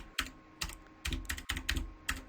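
Computer keyboard typing, used to write C++ code in a terminal program, with irregular clusters of key clicks and a sharper thump from a heavier key, close and alone with no talk.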